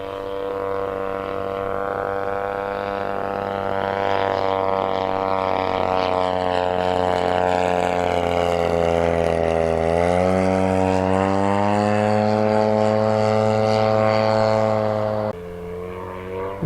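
A Phoenix Waco model airplane makes a low pass at half throttle, its steady propeller and engine drone rising and shifting in pitch as it sweeps by close and loud, then dropping off near the end.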